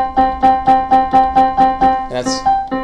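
A plucked musical tone, pitched at triple a base frequency, repeats in a steady even pulse about eight times, each note ringing briefly and decaying before the next, with a short irregular flurry near the end.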